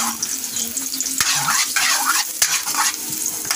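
Garlic stirred in a hot pan, sizzling and frying under irregular scrapes of a utensil against the metal, close and fairly loud with no voices.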